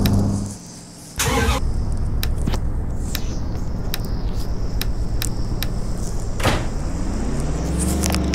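A classic car's engine in a video game circuit race revs and idles loudly, with a brief dip before the engine picks up again and a steady mid-pitched drone carrying sharp clicks and a rising rev near the end.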